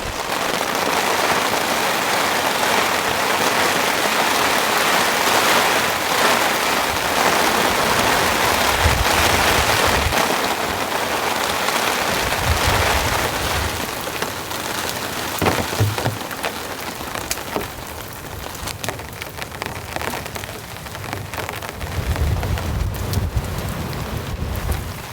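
Heavy storm rain drums steadily on a camping tarp in hurricane-force conditions, a dense continuous roar with gusting wind and occasional low thumps.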